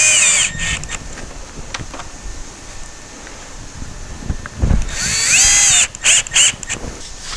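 A power drill drives a couple of screws into a rotten cargo trailer door under repair, with short loud whirring bursts near the end after a stretch of wind and rustling outdoors.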